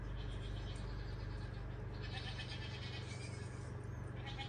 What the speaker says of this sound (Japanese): 見たことないでしょ、ヤギ。